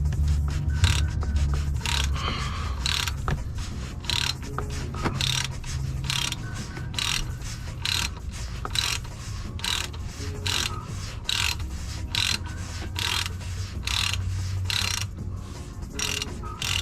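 A ratchet fitted with a 64mm adapter spins open the oil filter housing on a Toyota Prius, giving a fast, continuous run of clicking pawl ticks close up, in bursts with brief pauses throughout.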